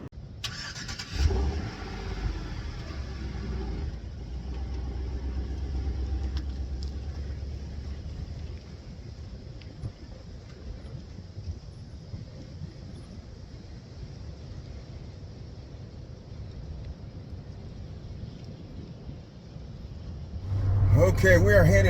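Steady car road noise and low engine rumble on a very windy highway, with broadband wind buffeting throughout; a louder rush swells near the end.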